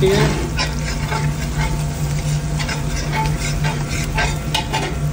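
Pork frying in a pan with pepper and paprika for noodle soup, stirred continuously: a steady close sizzle with a low hum beneath and light scraping of the utensil throughout.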